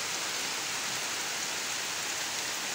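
Heavy rain from Typhoon Kristine pours in a dense, steady hiss that fills the whole clip, a constant wash with no pauses and no voices.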